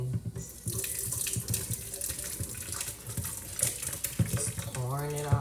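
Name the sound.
pouring hot butternut squash soup mixture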